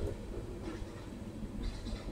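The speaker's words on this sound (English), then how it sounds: "It's a long train." A long train rumbles past at a distance, a steady low drone without clear breaks or voices.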